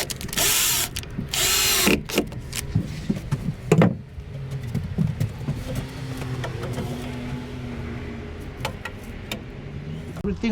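A power drill drives fasteners into cabin wall boards, with two loud whirring bursts early, then clicks, knocks and quieter handling noises close by.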